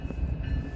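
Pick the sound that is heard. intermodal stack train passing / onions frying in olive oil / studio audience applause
intermodal stack train passing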